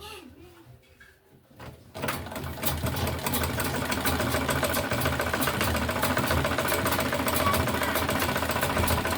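A sewing machine stitches a lining onto a white tote bag warmer with black thread, sewing close to the edge; steady mechanical whirring runs continuously after a quiet start, with a voice talking over it.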